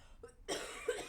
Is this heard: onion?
no